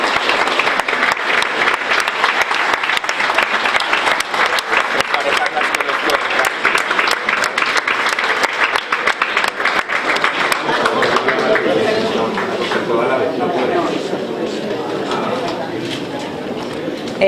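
Audience applause at a town festival presentation in Graus, as a couple receives a commemorative plaque and bouquet from the mayor; dense, steady clapping fills most of the clip before thinning and fading toward the end.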